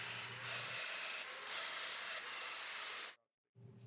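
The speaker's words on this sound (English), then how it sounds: "On the panel side, the slots are cut using the tightest setting." A domino joiner cuts 12 by 50 millimeter mortise slots into a panel on its tightest setting, producing a loud, continuous high whine for about three seconds that stops abruptly and then starts again briefly.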